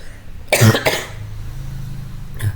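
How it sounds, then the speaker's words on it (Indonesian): A couple of sharp coughs close by, the first louder and doubled, then a quieter one after a pause, with low room hum between. "Mohon maaf, saya batuk terus."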